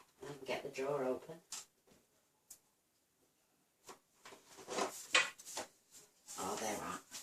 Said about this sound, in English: And get the drawer open.